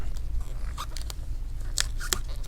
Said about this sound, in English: So what I'll do is I'll try to separate this tape.